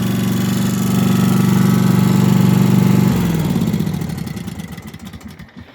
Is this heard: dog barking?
no